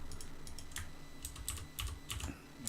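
Computer keyboard being typed during PLC programming work, a series of quiet, sharp key clicks in small irregular bursts, close up with no talk.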